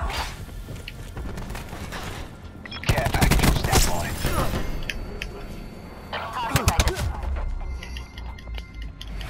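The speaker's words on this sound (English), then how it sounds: "I'm under fire" Gunfire in the shooter game Call of Duty Black Ops 4 during a team deathmatch: rapid bursts of automatic fire and sharp shots crackle loudly over a busy game soundscape, with a second cluster of shots near the end.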